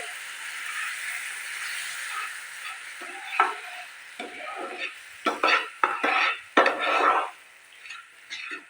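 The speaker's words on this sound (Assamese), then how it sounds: "এতিয়া মই দালি দিয়া কাপটোৰে 1 কাপ গাখীৰ দি দিছোঁ।" Fried masoor dal in a pan, with milk just poured in, gives a soft sizzle that turns into a series of louder stirring and scraping bursts of spoon against pan toward the end.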